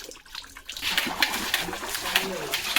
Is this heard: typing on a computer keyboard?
no